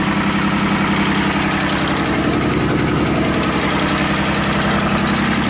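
GM truck engine idling with a misfire, a loud, close, rough idle with an uneven lumpy knock pulsing under a steady rumble, running without voices.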